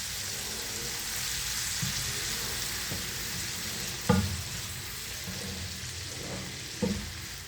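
Shrimp fry in a pan with a constant close sizzle, while a utensil knocks and scrapes against the pan a few times, two of the knocks sharp and louder.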